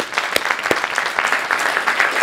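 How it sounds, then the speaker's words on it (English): Audience clapping at a political talk, a moderate, somewhat uneven patter of hands with individual claps standing out, fairly close and continuing steadily for a couple of seconds. "let's give her a round of applause"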